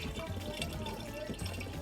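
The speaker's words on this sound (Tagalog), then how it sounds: "So, tanggalin natin yung tubig." Salty brine water being drained off homemade salted eggs after fourteen days of curing, a steady close pouring and trickling splash that runs continuously without pause.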